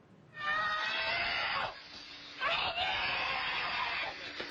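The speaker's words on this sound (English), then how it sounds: "I started screaming for help." A woman screams in two long, piercing wails separated by a short pause, sounding close and distressed.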